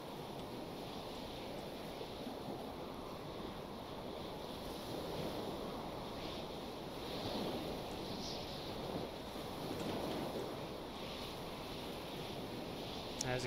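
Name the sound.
ocean waves and wind in Stormworks video game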